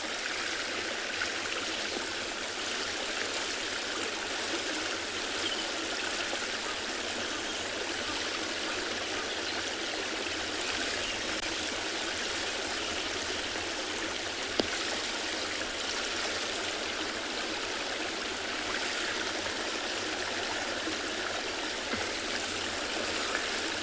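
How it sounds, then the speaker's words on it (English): Water spills over a small weir spillway at a dam during a sunset safari at Tswalu, a steady continuous rushing flow heard up close with no voices. "the flowing sound's just coming from the little weir here where the water is overflowing on the spillway"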